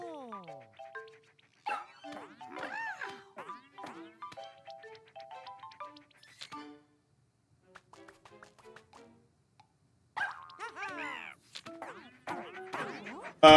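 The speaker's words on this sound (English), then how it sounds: "There's the dog." A cartoon dog barks in Super Mario Maker 2 story mode, short bright yelps mixed among chiming musical game effects and jingles over several seconds.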